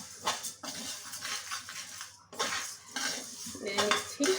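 A metal utensil scrapes and clinks against a pan while stirring mash kalai dal frying over medium-low heat, irregular close scraping strokes with brief pauses, no talking.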